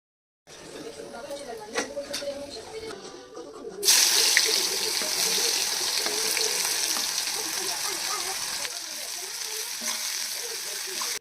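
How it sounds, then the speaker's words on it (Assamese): Green chillies and onions frying in oil left over from frying potatoes, a loud steady sizzle that jumps up sharply partway through as the food hits the pan and then holds at an even, continuous hiss. "আলু ভাজা তেলখিনিতে আৰু অকণমান তেল এড কৰি তাত জলকীয়া আৰু পিঁয়াজখিনি দি অকণমান ৰঙচুৱা হোৱালৈকে ফ্ৰাই কৰি ল'লোঁ"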